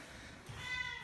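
A cat meows briefly outdoors, a short tonal call rising over light background noise.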